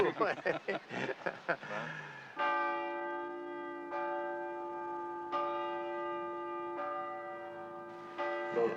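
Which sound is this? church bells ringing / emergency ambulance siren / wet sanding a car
church bells ringing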